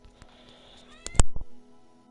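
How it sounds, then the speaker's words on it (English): A domestic cat gives a short meow, then a few sharp, close knocks and thumps are heard over a quiet room hum. "You could probably hear that meow,"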